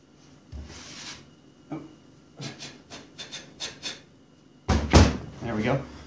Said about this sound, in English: these aluminum flasks are tapered so I can flip it upside down and get all the sand to dump out of it